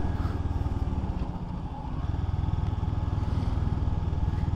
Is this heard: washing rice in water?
no